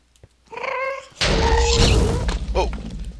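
A Minecraft ghast cries out in the Nether with a warbling, cat-like wail, then a loud fireball blast and rumbling burst follow, close and loud.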